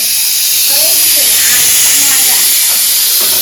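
Pressure cooker with rice on a home stove, venting steam in a loud continuous hiss that fills the whole stretch, with voices talking faintly underneath.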